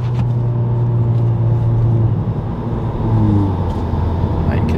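A Hyundai i30 N-Line with an Xforce catback exhaust and open valves drones under full throttle, heard from inside the cabin as a steady, loud, low engine rumble with a rising tone.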